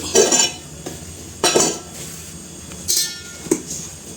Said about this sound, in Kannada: ಮುದ್ದೆ ಬೆಂದಿದೆ ಇವಾಗ ತಿರ್ಕೋಬೇಕು